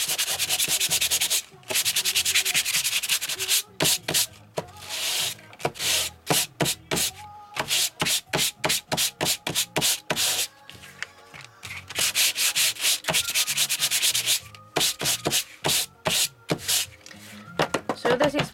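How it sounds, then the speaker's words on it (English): A Tim Holtz sanding block scrapes briskly across paper in quick bursts of rubbing strokes, close up, with brief pauses between runs. "And this is the Tim Holtz's sanding block thingy, and it's pretty handy."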